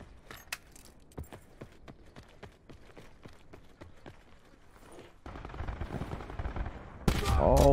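Sharp, scattered shots crack out during a Black Ops 4 match, sniper and other gunfire popping in irregular bursts, then a louder blast of noise near the end, with faint voices in the background.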